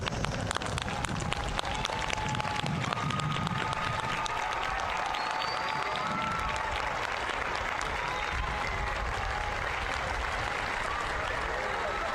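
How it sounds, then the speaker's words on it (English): Sustained applause from a large crowd at a university spring commencement ceremony for graduates, steady dense clapping throughout with some crowd noise and a few voices underneath. "join me in one last round of applause for all of our graduates today"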